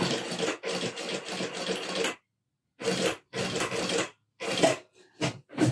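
A sewing machine stitching a logo label onto a bag, running in several bursts of rapid whirring stitches separated by short pauses, close and clear with no talk.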